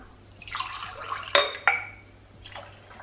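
150 ml of milk poured into cake batter gives a close liquid splash and gurgle with a couple of sharp clinks against a glass or bowl, then trickles off.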